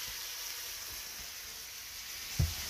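A pound of New York strip steak searing in a pan gives a faint, steady sizzle, broken near the end by a single soft knock, with no voices.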